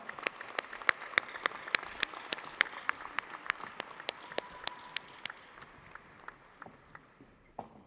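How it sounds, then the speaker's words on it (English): Sparse claps from a small crowd at an undergraduate commencement, quick sharp hits scattered over steady background noise, thinning out toward the end. "Let's give them another round of applause."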